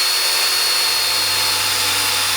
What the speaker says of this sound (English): I can do this with the hand drill